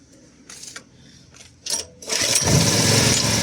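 Small NuTool 2 kW generator pulled over with the choke on and fuel open: a few short cranking bursts, then the engine catches and settles into a loud, steady close-up running drone.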